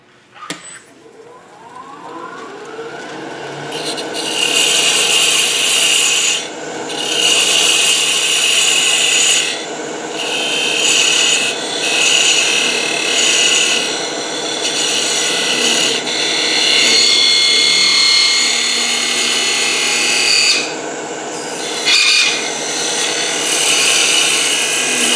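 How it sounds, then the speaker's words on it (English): A flat parting tool cuts into wood turning on a lathe for an upside-down saltshaker, a loud continuous scraping and rasping that runs for long stretches with brief dips and pauses. "I always use a flat parting tool, and that's the price you pay for using a flat parting tool"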